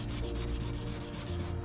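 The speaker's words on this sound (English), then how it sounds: "spray it down, and then you're gonna go ahead and start sanding" Steady rhythmic rasp of sandpaper scrubbing back and forth over a plastic headlight lens, about a dozen even strokes, close and continuous.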